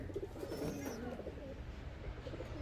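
Giribaj high-flying pigeons coo softly in a loft, low throaty murmurs rolling over a steady background hum, faint and continuous.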